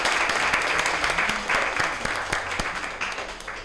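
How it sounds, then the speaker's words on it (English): An audience at a fourth- and fifth-grade school spelling bee applauds with steady, dense clapping that fades slightly toward the end, while a few voices carry faintly underneath. "I'd also like to give a round of applause for each of you"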